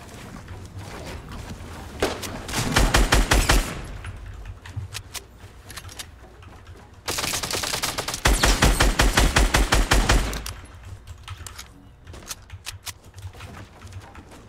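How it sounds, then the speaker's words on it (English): Rapid automatic gunfire in Fortnite, sharp staccato bursts rattling off in two long strings of shots with quieter scattered shots and pauses between them. "Someone tried to shoot me too."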